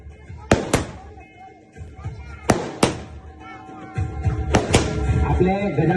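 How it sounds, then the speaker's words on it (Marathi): Firecrackers and fireworks at a village celebration: three sharp pairs of loud bangs spaced a couple of seconds apart, close by, with crowd noise and voices rising toward the end. "फटाक्यांची आतिषबाजी आपण पूर्ण होऊन देऊया"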